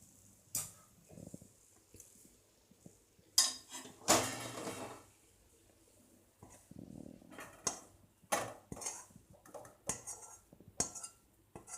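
Coconut burfi mixture is scraped and poured from a pan onto a greased plate, with scattered metallic clinks and scrapes of a spoon against the pan and plate, close and fairly quiet, with no talking.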